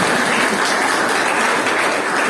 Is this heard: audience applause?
yes